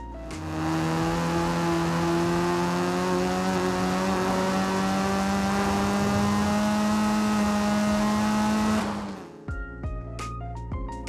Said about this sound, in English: Its original exhaust note is pretty understated, but it really starts to come alive when you chuck on an aftermarket exhaust.